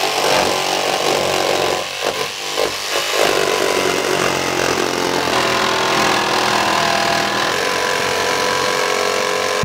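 A jigsaw cuts a window opening through the metal wall of a Promaster van, its loud, steady buzzing saw noise running continuously and close with a brief dip in pitch and load around two seconds, no talk.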